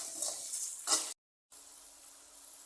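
Onions sauté in a pan for a kuzhambu gravy with dried fish. A steady, close crackling sizzle carries a few stirring scrapes, cuts out briefly, then resumes as a softer hiss.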